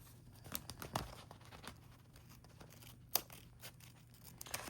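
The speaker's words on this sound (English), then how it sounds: "Once again, trimming down the side, and hopefully not trimming the envelope." Quiet, close snipping and crinkling as scissors trim the side of a paper envelope, with irregular soft cuts and rustles and one sharper snip.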